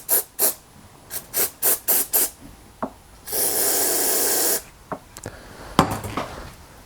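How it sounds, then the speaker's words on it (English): Short bursts of carburetor cleaner spray on a Honda EU2000i generator carburetor, several quick hisses, then one long continuous spray lasting over a second, followed by a few more brief puffs, close by. "I'll just spray it with card cleaner"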